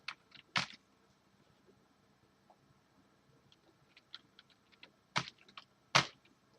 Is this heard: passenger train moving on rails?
no